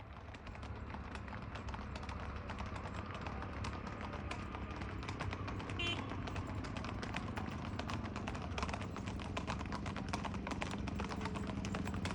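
Hooves clip-clop in a fast, steady rhythm over a constant background rumble, continuing evenly throughout at moderate distance.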